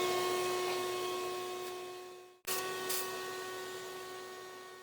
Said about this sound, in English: the first thing I'm going to clean with is the vacuum cleaner